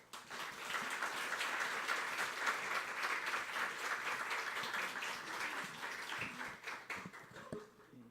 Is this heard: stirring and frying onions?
no